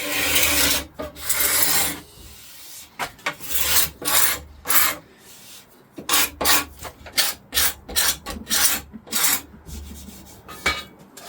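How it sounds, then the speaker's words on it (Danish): A wooden bow's edges are sanded by hand with 100-grit sandpaper. Close, loud rasping strokes come in irregular bursts, with a brief pause, then a quicker series of short back-and-forth rubs. "Så tager jeg igen på 100 sandpapir."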